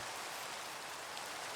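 Rain falling in the Minecraft video game at night, a faint, steady hiss of drops with no other sounds.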